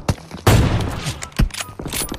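PUBG gunfire sounds in sharp, loud bursts: a quick shot, a heavy volley, then another single crack, with mechanical clacks between them and no talking.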